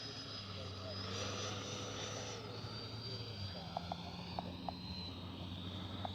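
A Freewing 90mm T-45 Goshawk RC jet passes by in flaps-down landing configuration, a steady engine whine rising and then easing away, with brief clicks and a speaking voice over the top.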